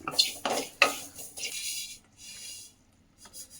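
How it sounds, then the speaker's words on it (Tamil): Sesame seeds roasting in a pan for kozhukattai, stirred with a utensil that scrapes and clinks against the metal in a few sharp strokes, then softer rustling and pauses. "அடுத்து வந்து எள்ளு வறுத்தடிக்காங்க ஃப்ரெண்ட்ஸ்"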